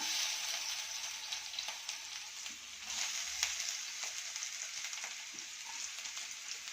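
Chopped garlic frying in hot oil for veg momos, a steady close sizzle with crackling pops running throughout, no voices.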